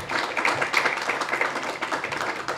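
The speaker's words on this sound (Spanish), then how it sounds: "Un fuerte aplauso" A room full of people at a book event gives a speaker a short burst of close, dense clapping that holds steady throughout.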